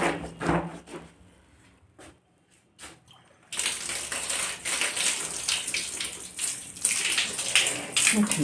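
Water runs steadily in the morning as someone washes with cold water, a broadband rushing splash that starts faint and intermittent, then turns loud and continuous for the rest of the stretch.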